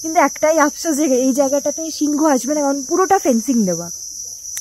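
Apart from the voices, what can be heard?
crickets chirping at night on Nakuru safari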